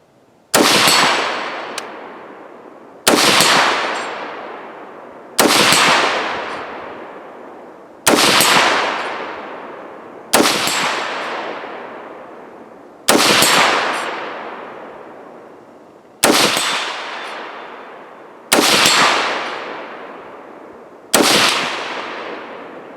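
Nine sharp rifle shots of 55-grain ammunition ring out at steady intervals of about two to three seconds outdoors, each a loud crack with a long decaying tail, some followed by a faint metallic clang from a steel flipper target.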